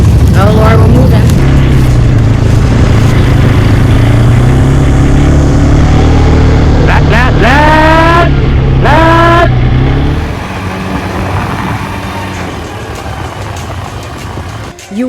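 An ATV engine drones steadily while riding over desert dunes near Dubai, loud and close, with someone speaking over the motor; the engine note shifts mid-way and then settles lower.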